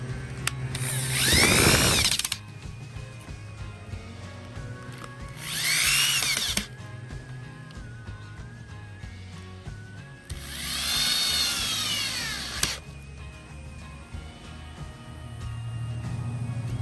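A handheld power drill drives screws into the metal plate of a flat-pack end table in three separate bursts, each revving up and then winding down, with quiet pauses in between.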